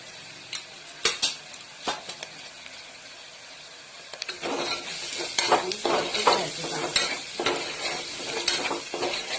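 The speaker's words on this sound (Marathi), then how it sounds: "चांगलं परतून घ्यायचं." Spices with coriander powder sautéed for a ridge gourd and chana dal bhaji: a few scattered clinks at first, then a steady, close frying sizzle with repeated scraping stirs over the last half.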